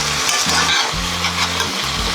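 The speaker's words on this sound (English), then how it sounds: "And then let that stir fry." Pepper steak sizzling and being stirred in a hot stir-fry pan with a little added water, a steady loud frying hiss broken by low scraping strokes of a spoon.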